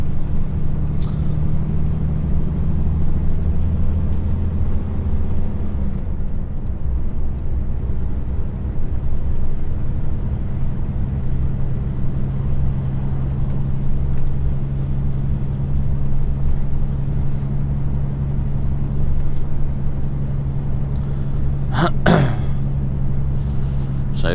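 An HGV truck cab on a UK road near Lyme Regis, heading toward Axminster: a steady, loud engine and road drone throughout, with a brief sharp squeak near the end.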